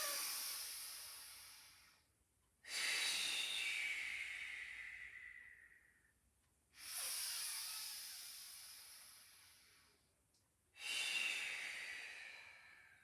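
Three long, close, airy breaths during a Pilates exercise, each a strong inhale or exhale that starts loud and fades slowly, separated by short silent pauses.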